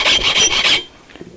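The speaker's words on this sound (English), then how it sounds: "So if I can file a notch in it," A hand file cuts a notch in glass mica composite: several quick, harsh rasping strokes in a rapid rhythm, loud and close, then stopping abruptly into near quiet with a faint tap or two.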